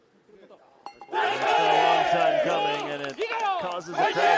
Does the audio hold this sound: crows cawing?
no